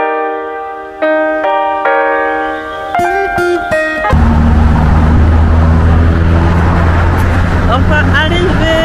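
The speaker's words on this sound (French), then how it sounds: "Je sais pas si on m'entend très bien à cause des voitures" Heavy, steady roar of New York road traffic with engines rumbling close by, following a few seconds of sustained tonal notes.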